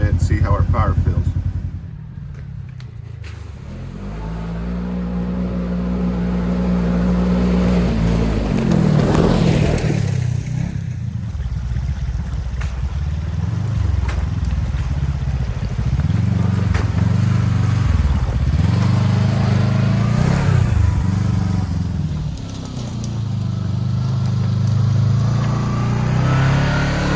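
Kawasaki KRX 1000 side-by-side on 35-inch tires, its engine revving and pulling up hills in several surging bursts, loud and close, with a rider's voice talking over the engine.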